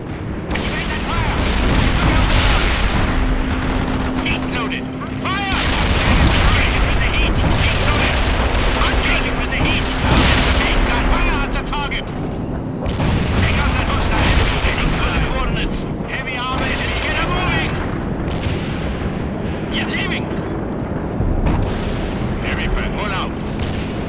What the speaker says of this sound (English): Firing a tight barrage at the target area.